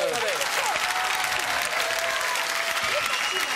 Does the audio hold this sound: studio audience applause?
yes